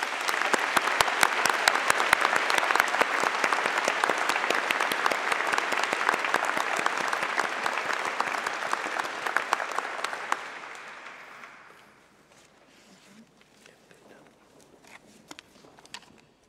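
Sustained audience applause for chemistry graduates at a university commemoration ceremony, loud and dense with many clapping hands, tapering off around twelve seconds into scattered faint claps and room noise.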